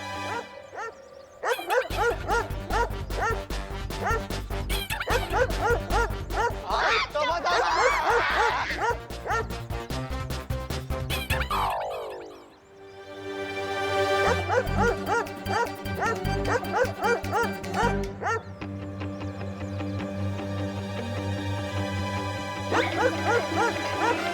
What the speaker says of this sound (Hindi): छोटे साइज का डॉगी है, फिर ये इतनी जोर से कैसे भौंक रहा है?